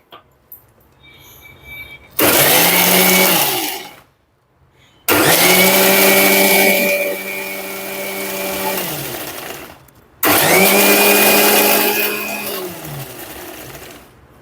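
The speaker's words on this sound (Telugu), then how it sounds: "మిక్సీ కొట్టేటప్పుడు కొద్ది కొద్దిగా వాటర్ వేసుకుంటా మిక్సీ కొడితే తొందరగా పైకి వచ్చేసింది" A mixer grinder churns thick cream curd to separate butter, running in three loud, close bursts with a droning whine and short pauses between them.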